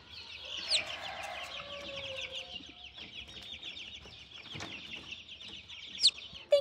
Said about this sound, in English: I hope you enjoyed seeing our brand new one-day-old baby chicks